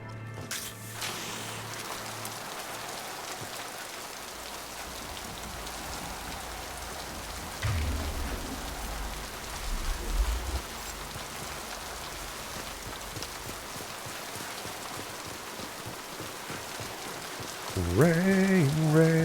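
Steady rain patters in the video game Mass Effect, a soft continuous hiss with occasional louder splashes and drips, fairly faint throughout, with a brief tonal game sound near the end.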